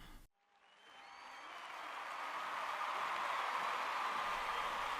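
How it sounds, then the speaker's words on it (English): Cheering and applause from a crowd rise from silence and swell into a broad, sustained roar that grows steadily louder and stays full to the end. "awoke to the sound of cheering"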